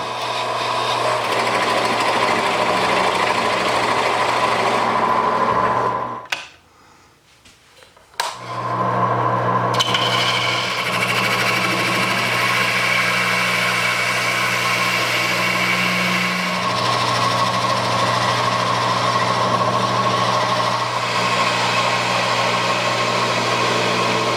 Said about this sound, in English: What we need to do now is drill out the inside diameter for the ring.